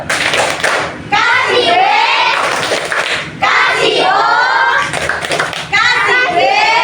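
A class group does the Indonesian "tepuk wow" clapping chant, rhythmic bursts of rapid hand claps between loud chanted calls, with children's voices shouting in unison over the clapping.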